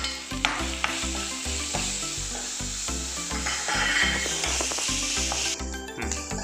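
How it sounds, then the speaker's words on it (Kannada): Onions hit hot tempering oil for a dill-leaf sambar and crackle and sizzle steadily. A spoon scrapes and stirs the pan in a regular rhythm of knocks and rubs, close and fairly loud, with no voices. "ಒಗ್ಗರಣೆಗೆ ಈರುಳ್ಳಿ ಹಾಕ್ಕೊಳ್ಳೋಣ."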